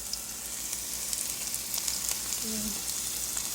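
Cabbage fries in a pan on a stove, a steady close-up sizzle and crackle hissing continuously throughout, with no talking.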